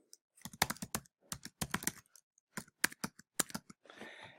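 A login email typed on a computer keyboard, with quick bursts of close, crisp key clicks separated by brief pauses and a final short scratchy rustle, no talking.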